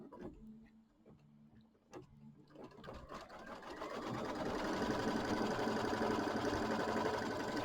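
A sewing machine tacking down quilt batting for a Kimberbell mini quilt, starting with a few soft clicks and knocks, then building into a steady fast mechanical stitching hum that runs for several seconds, fairly quiet and close.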